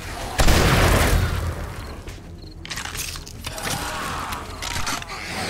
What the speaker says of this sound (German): Ich muss nachladen.